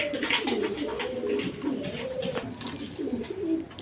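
Pigeons coo in repeated low rolling phrases, including two female birds, one a red Gola hen, kept among mixed breeds for sale; several coos overlap close by against a steady background murmur, with no clear talk.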